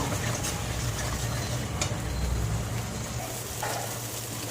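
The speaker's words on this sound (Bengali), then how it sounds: "মশলাটা একটু ভালো করে কষিয়ে নেব।" Spice paste sautéed and stirred in a pan for a Bengali potoler dorma, a steady broadband sizzle close and continuous with a few faint utensil clicks, no talking.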